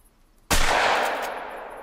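A single sharp shotgun slug blast fired at a bison in theHunter: Call of the Wild, sudden and loud out of near silence, with a long fading rumble and echo.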